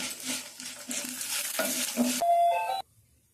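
Tempering for tamarind pulusu sizzles and fries in a pan, close and moderately loud, with spoon stirring scrapes in bursts before the sizzle cuts off abruptly near the end.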